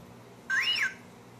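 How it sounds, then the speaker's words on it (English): A single bright electronic whistle from an R2-D2 robot rises and falls in a smooth arc, short and clear against a quiet background. "Don't whistle at me."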